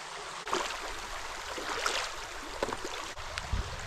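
Creek water swishes and trickles as someone wades through it at a washed-out bridge on the Appalachian Trail, with irregular splashes heard close by against a steady flowing stream.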